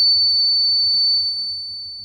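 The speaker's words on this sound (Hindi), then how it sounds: "आप देख सकते हैं ये बीप कर रहा है" An AC power-supply-fail alarm kit gives a single continuous high-pitched electronic beep, loud and close, sustained steadily before slowly fading as the power is switched off.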